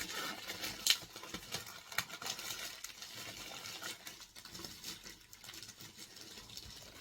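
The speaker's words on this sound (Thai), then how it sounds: "ฝนตก" Rain patters indoors in an irregular spray of soft taps and drips, fairly faint, with a few sharper ticks early on and no voices.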